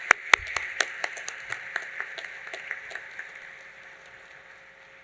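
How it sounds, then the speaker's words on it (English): Audience applause at a fire and EMS awards ceremony, an irregular patter of claps that starts with a few sharp, close hand claps and then thins and fades over several seconds, with no talking. "Please give them a round of applause."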